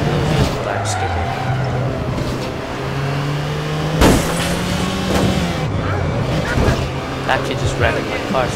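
A small car driven in the online shooter APB: Reloaded, its engine droning at a steady pitch that dips and rises with gear changes and a sharp knock midway, skidding tires underneath, heard under game noise.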